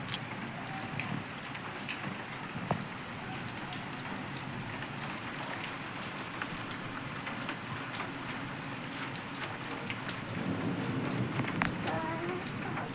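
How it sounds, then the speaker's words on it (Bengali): Steady rain falls outdoors over farmland under cloudy skies, a constant close patter on surfaces with scattered louder drops, growing a little heavier toward the end. "এই দেখো বৃষ্টি পড়ছে"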